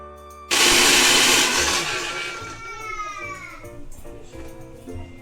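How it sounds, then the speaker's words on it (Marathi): A mixer grinder grinding cooled roasted sesame seeds starts with a sudden loud whirring roar, then its whine winds down and fades over a few seconds. "तीळ थंड झाल्यावर आपण ते आता मिक्सरला वाटून घेतलेले आहेत"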